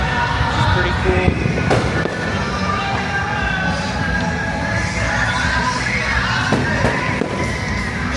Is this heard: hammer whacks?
no